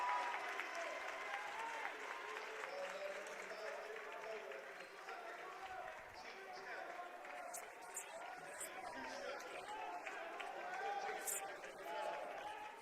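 A basketball crowd inside Geisman rises to its feet cheering during a CUC men's game against St. Norbert, a sustained roar of applause and shouting from the stands with a few sharp whoops standing out late.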